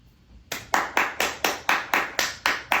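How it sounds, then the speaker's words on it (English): A single person claps nine times in an even, unhurried rhythm, each sharp, close clap ringing out briefly before the next, alone with no talk. "applause, please?"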